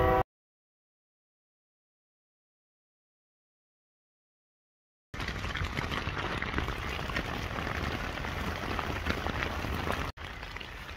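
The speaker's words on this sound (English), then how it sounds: "it's raining pretty hard out there" Heavy rain falling outside at night, a dense steady patter and hiss that starts abruptly after several seconds of silence and continues with a brief break near the end.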